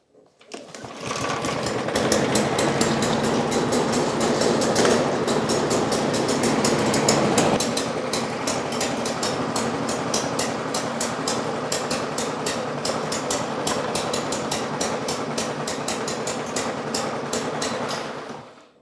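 A Husqvarna 5521P push mower with a bent crankshaft runs rich with the choke seemingly stuck on, its small engine chattering in a steady, rapid, loud rhythm close by after starting, with no talk over it.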